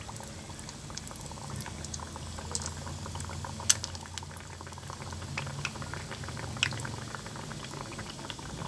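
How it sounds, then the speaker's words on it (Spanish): Chicken empanada deep-frying in hot oil, a steady bubbling sizzle with scattered pops and crackles throughout, close and moderately loud, with no voices. "Ponemos a freír la empanada."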